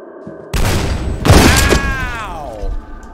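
A weapon firing in the game F.E.A.R., two heavy booming shots about a second apart, loud and close, each followed by a ringing tail.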